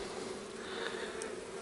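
Honey bees buzzing at an open hive during beekeeping, a close, steady, loud hum of many wings with a constant pitch and no talk.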